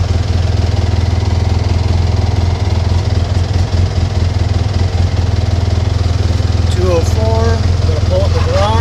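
A 2014 Polaris RZR 800 with an overheating problem runs with its cooling fan on, giving a steady, loud mechanical drone throughout, with a few brief chirps near the end.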